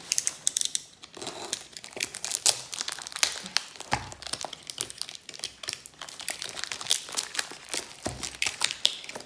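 Plastic packaging crinkles and crackles as a diamond painting parcel is opened, a close series of irregular rustles and sharp crunches with short pauses between handfuls.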